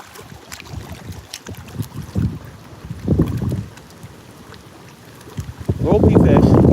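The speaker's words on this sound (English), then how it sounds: "It's pretty windy too." Gusts of wind buffet the microphone in rumbling bursts, rising and falling, with a strong gust building at the end.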